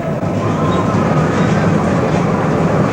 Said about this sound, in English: you'll get a tram on each side of the river running together like this